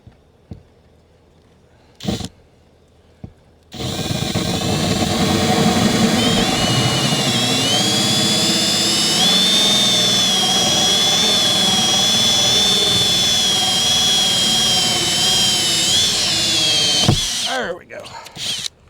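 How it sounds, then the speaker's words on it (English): A power drill fitted with a hole saw bites into a wooden stud, whining loudly and steadily for about thirteen seconds after a couple of short bursts, then winds down; quiet handling noise comes before and after. "This is the hole saw."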